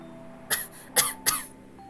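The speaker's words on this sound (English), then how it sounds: "The next moment I lose my balance in a coughing fit." Three sharp, close coughs in quick succession, spaced about half a second apart, form a short coughing fit in the video game Hello Charlotte, with quiet between them.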